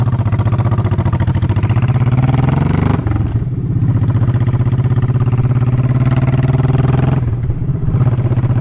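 Honda motorcycle engine revving hard through its exhaust, a loud, continuous close-up roar with a brief dip near three seconds and another near seven before climbing again, with no talk.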